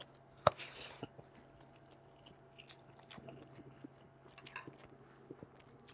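Someone eats ginataang gulay, a coconut stew with squash, long beans, eggplant and okra, biting into crunchy shrimp. Soft, close chewing with scattered small crunches and clicks follows one sharp bite near the start, and no one talks.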